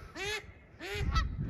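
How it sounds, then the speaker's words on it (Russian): Geese give two bursts of loud, harmonic honking, each about a quarter-second, with a low rumbling background between and after the calls and no talking. "О, видите, мои гуси."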